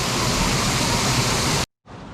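Steady broadband rush of the Palar river flowing, loud and close, that cuts off abruptly near the end and resumes more faintly after a brief silence.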